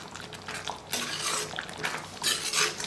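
Curry with brown sugar and crushed kasuri methi stirred in a pan: close metallic scrapes and wet clinks of the spoon against the pan in a few quick bursts over a soft sizzle.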